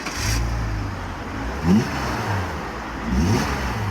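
A BMW 330i E46 engine idles steadily with a low rumble, then revs up briefly twice, rising and falling in pitch, close by.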